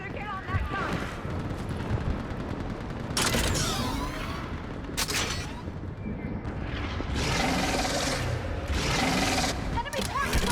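Mounted gun fire and combat in Mass Effect 3, heavy bursts and blasts recurring over a continuous rumbling battle bed, with voices speaking over the action.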